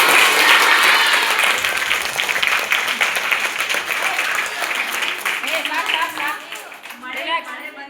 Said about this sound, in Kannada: ಎಲ್ಲರೂ ಚಪ್ಪಾಳೆ.